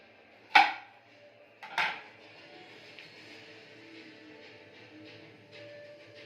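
Knife chopping an onion on a cutting board, two sharp separate knocks near the start followed by softer, quieter cutting and clatter.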